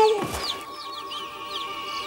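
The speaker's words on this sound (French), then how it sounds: "Non, ce n'est qu'un malheureux merle." A blackbird gives a short series of quick, bright chirping calls, fairly faint against a quiet outdoor background with a steady faint hum.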